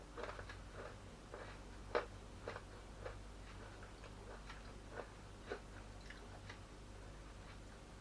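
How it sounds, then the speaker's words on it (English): Someone bites and chews crunchy homemade gingerbread cookies, a quiet run of irregular crisp crunches and clicks at close range, about a dozen distinct bites and chews spaced over several seconds, with a low hum underneath and no talking. "They are very crunchy."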